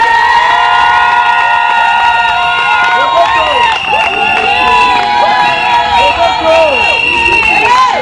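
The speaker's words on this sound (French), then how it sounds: "Acclamons." Wedding guests at a civil ceremony and nuptial blessing break into loud, sustained cheering, with many voices whooping, shouting and ululating close by and some scattered clapping underneath.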